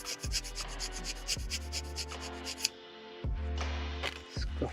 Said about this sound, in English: sand it so it's like even, more or less